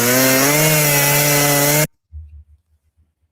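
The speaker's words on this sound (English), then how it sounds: "That doesn't sound like a leaf blower to you?" A loud, steady engine drone resembling a leaf blower runs for nearly two seconds with rising harmonic whine, then cuts off abruptly, leaving a few faint low thumps.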